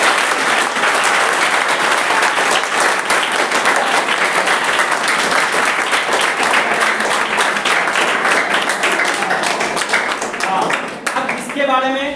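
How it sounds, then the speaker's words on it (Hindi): A class of students breaks into loud, sustained applause, dense clapping that fills the room and continues steadily before tapering off near the end. "आप जोरदार ताली इनके लिए बजाइए।"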